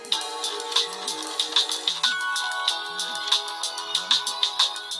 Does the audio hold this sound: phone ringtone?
yes